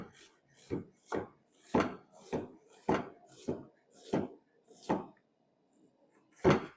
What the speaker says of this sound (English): you're moving the knife over however the thickness of how you want your slices